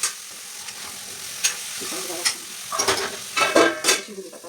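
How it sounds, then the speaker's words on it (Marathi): Potatoes and tomato with turmeric and spice masala sizzle in a frying pan while a spoon stirs and scrapes them in irregular bursts, loud and close, over a low background sizzle. "आता परतून घेऊया"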